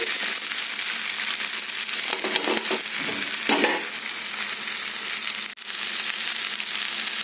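Chopped okra pieces drop into a hot pan for a home-style okra curry, giving a steady, close, dense sizzle with stirring scrapes throughout and a brief dip near the end; no one speaks.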